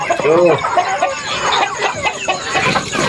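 Chickens being caught at night cluck and squawk loudly and close by in agitated bursts, with people talking over the flapping, handling and commotion.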